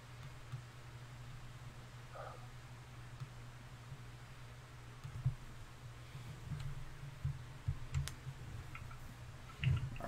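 Scattered, quiet clicks of typing on a computer keyboard sit over a low steady hum, with the keystrokes coming in irregular bursts that grow slightly busier toward the end.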